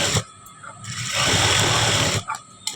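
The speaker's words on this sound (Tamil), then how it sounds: "நெக்ஸ்ட் சைடு நான் தைக்கிறதுக்கு காமிக்கிறேன்" A sewing machine stitches the lining of a churidar neck in a loud, close mechanical whir that runs in short bursts and one longer steady stretch, with brief pauses between.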